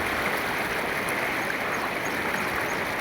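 Floodwater on the swollen Mahanadi river rushes past utility poles in a steady, dense roar, constant and fairly close with no voices.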